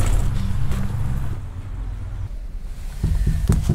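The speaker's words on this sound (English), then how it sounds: "Let's go sailing." A sailboat under way in winter off southern Brazil, with rushing wind and water noise that dips in the middle and swells louder again toward the end.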